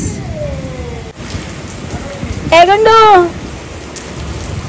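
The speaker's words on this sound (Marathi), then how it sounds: "आता जोरात आला बघ पाऊस" Heavy evening rain pours down in Pune in a steady, hissing wash, while a voice calls out briefly and a child's high, sliding vocal sound rises above the downpour midway.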